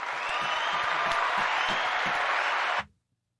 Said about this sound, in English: Let's give a round of applause for Vision QT.